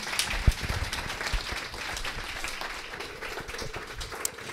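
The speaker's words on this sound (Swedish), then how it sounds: "En applåd till dig." Audience applause after a talk-show conversation in a living-room setting, a steady spread of clapping lasting several seconds at moderate level with no talk over it.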